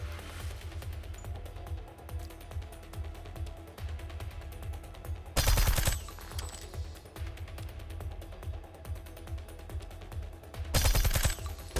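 Turrets in the video game Reverse Collapse: Bakery Girl fire in two loud, sharp bursts. Quieter clicking game sounds run between the bursts.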